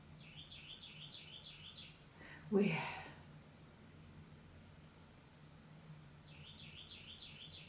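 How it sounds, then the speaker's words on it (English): Faint, repeated song of a mockingbird or cardinal drifts in from a distance in short warbling phrases, separated by a brief close rustle or breath in a quiet room. "did y'all hear that happy bird?"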